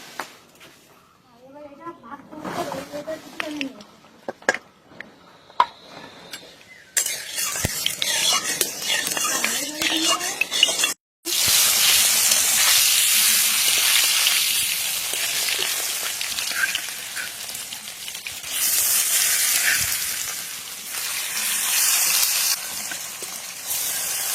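Fish pieces frying in mustard oil in a hot wok: quieter handling noises and a low voice early on, then a loud, dense sizzle bursts in and continues steadily with occasional utensil clinks.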